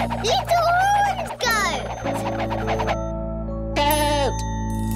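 Animated goat bleats on a farm in a children's programme, wavering cries at the start and again near the end, heard over steady background music with a voice in between.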